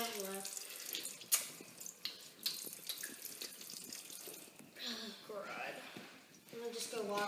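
Water runs from a kitchen tap into a sink, a continuous splashing stream that swells and eases under people talking nearby.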